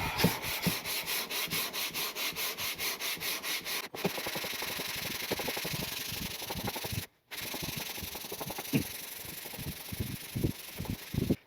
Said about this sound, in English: put this on flat glass, sandpaper 150 grit, swap it out if you need to